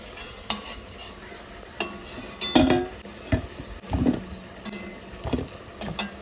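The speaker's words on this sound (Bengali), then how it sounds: "আমি আলু ভাজা শুরু করে দিচ্ছি" Potatoes fry in hot oil in a wok, a bubbling sizzle under repeated irregular scrapes and clanks of a metal spatula against the pan, close up and without speech.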